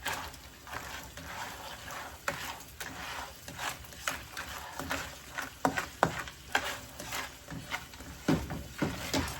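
Crawfish sautéing in a pan, a soft, moderately quiet sizzle with irregular stirring clatters and scrapes from a utensil, some sharper knocks standing out.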